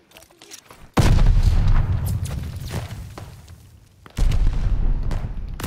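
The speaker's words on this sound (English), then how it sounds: "That's a grenade." In the Call of Duty: Vanguard campaign, a heavy grenade blast bursts in, followed by a rumbling wash of gunfire and debris, then a second loud explosion hits near the end, all close and booming.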